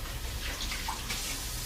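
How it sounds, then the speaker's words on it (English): Ginger root is rinsed under a running kitchen tap, a steady close hiss of flowing water splashing for a brief moment. "with my ginger is let's rinse this off real quick."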